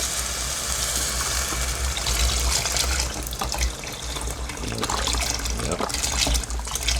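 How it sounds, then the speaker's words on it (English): Four cups of chicken broth from a 32-ounce container pour steadily into a cooking pot, a continuous close liquid splashing and trickling that runs for several seconds with a low kitchen hum beneath. "We're going to go ahead and add in our chicken broth."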